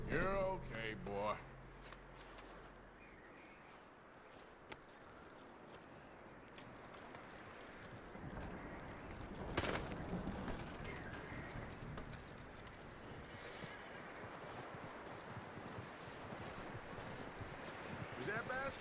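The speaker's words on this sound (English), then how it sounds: "That looks like a decent horse." Horse hooves clip-clopping in Red Dead Redemption 2, faint steady footfalls with jangling tack and shuffling under quiet ambient sound, a brief louder rustle midway, no clear talk over the steps.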